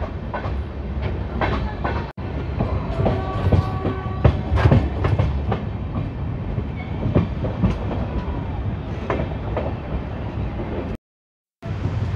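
The Lalkuan–Howrah passenger train runs on the rails with a loud, continuous rumble and rhythmic clickety-clack heard from on board, cutting out briefly near the end.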